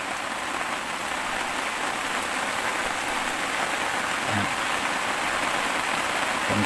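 Steady rain falls at a reservoir, a dense, even hiss of drops on surfaces that continues throughout, loud and close, with a few faint low knocks.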